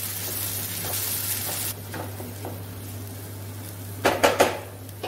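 A ground masala paste for channa masala sautés in a pan with a soft continuous sizzle under a low steady hum, broken by a few loud utensil clanks and scrapes near the end.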